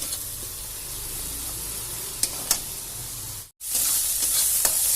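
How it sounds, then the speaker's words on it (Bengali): Onion paste frying with garlic in hot oil, a steady loud sizzle with a few sharp spatters, briefly cut off before the hiss returns brighter. "পেঁয়াজটাকে একটু ভাজবো রসুনের সাথে।"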